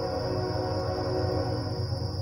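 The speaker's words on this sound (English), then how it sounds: "Train's always coming by when I'm making a video" A train rolls past outdoors, a loud steady rumble with a sustained tonal hum holding at a constant level the whole way through, with no voices over it.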